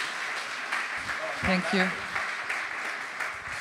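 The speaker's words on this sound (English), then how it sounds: "A big round of applause for Jordan" An audience at a startup conference applauds, a broad wash of clapping under a short spoken thank-you from a voice on stage, with the clapping continuing at a moderate level throughout.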